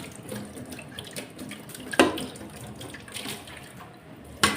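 Running tap water splashes steadily into a sink while something is washed under it for cooking grilled tulingan fish, with occasional louder splashes and clatters close by and no talk.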